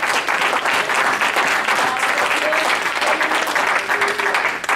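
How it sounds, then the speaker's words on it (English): A church congregation claps together in praise during a sermon, a full, lively burst of many hands clapping steadily and fairly loud, with no talking over it. "Give the Lord a hand clap of praise."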